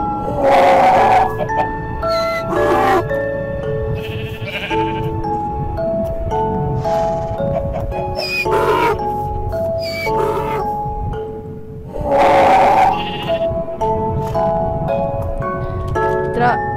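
Donkey braying in a modded video game, repeated loud honking calls recurring over about seventeen seconds against a steady game soundtrack, with no one speaking.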